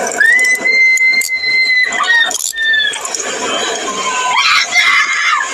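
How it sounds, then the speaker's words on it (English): Children screaming in distress during a chaotic arrest scene with adults shouting, high sustained shrieks and squeals rising and falling over a loud, crowded background throughout. "I know it's horribly sad hearing the children scream like that."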